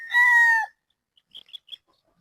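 Gamefowl stag crowing once, clear and close, followed by a few soft, faint clucks.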